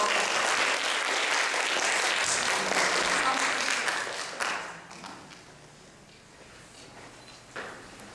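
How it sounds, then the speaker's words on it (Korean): Audience applause at a student speech contest, a burst of clapping that fades over several seconds into a quieter room, with scattered taps and a few footsteps. "박수 크게 쳐주십시오."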